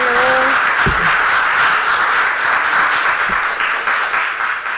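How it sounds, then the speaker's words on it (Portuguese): A church congregation breaks into loud, sustained applause, a dense wash of many hands clapping together close by for several seconds, fading slightly at the end. "Aplauda ao Senhor."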